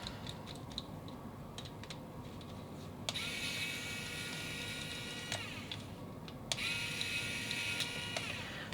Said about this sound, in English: I need to get my screwdriver here. Let's undo both of these.